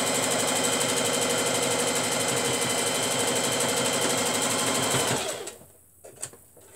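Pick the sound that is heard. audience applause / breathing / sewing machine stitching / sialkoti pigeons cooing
sewing machine stitching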